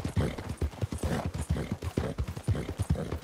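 Horse hooves clip-clop at a steady riding gait through a town in Red Dead Redemption 2, a close, loud, regular beat of hoofbeats alone with no voices.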